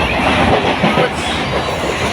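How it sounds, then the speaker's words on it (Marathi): A moving Mumbai local train near Malad rolls on with a steady, loud interior rumble, wheels clicking rhythmically over rail joints and a slight metallic squeal underneath, heard from inside a carriage with no talking. "ट्रेनमध्ये बसते ना"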